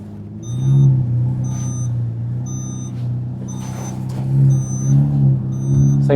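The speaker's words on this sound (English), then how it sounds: "This thing makes a lot of beeping noises." Repeated electronic beeps chime at a steady interval from a Lamborghini Murcielago LP640, sounding over a continuous low engine rumble at close range.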